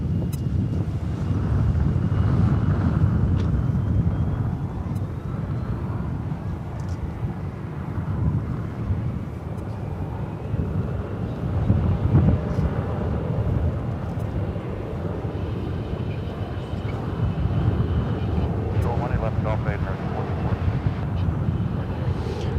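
An American Airlines Boeing 787 Dreamliner holds short of the runway at DFW Airport before taking off for Tokyo. Its steady jet engine rumble blends with heavy wind buffeting on the microphone, loud and continuous, with no voices.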